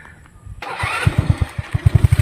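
A Rusi Passion 125 motorcycle on an uphill road coughs to life after a short whir, then settles into a quick, loud, pulsing putter up close.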